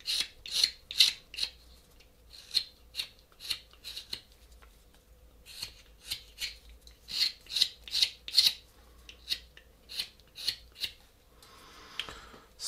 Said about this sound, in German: Ich kann das dann auch in so einer Schnippelei wegarbeiten, ja, dass ich halt Schnitt für Schnitt mache.